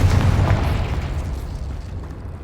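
Confringo, the fire-blast spell in the game Hogwarts Legacy, goes off as one loud, close explosion: a deep booming burst that slowly dies away into a rumbling tail, with no voices.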